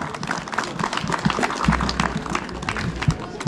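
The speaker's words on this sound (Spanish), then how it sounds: "¡Fuerte palmas!" Applause from an audience at a district anniversary celebration in Huayllapampa, a steady wash of clapping for several seconds with faint background voices.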